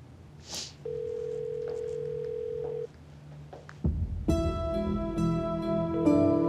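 A telephone line sounds a steady tone, then after a brief pause a bright, sustained electronic ring with layered tones starts up nearby, growing slightly louder.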